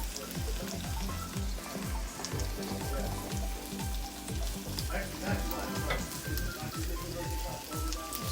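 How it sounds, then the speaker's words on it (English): Beaten egg frying in extra oil in a pan while making low carb pad thai, a steady close sizzle with rhythmic stirring scrapes throughout, fairly quiet overall. "A little extra oil. Throw in my beaten egg."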